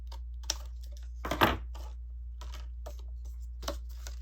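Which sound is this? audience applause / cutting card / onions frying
cutting card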